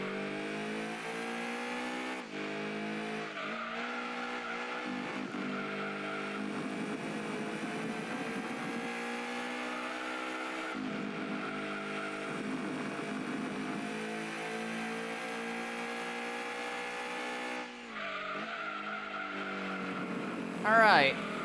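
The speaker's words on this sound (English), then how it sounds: "Car engine ASMR, the sound of this Lancia Stratos is beautiful." A high-revving Lancia Stratos racing engine in the video game Gran Turismo 2 roars continuously, climbing and dropping in pitch through gear changes, with a brief tire squeal near the end.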